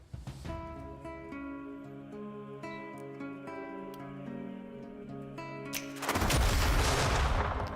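Cannon explosions in The Last Spell video game erupt as a loud, dense roar of blasts near the end. Sustained tonal game music plays for several seconds before the blasts.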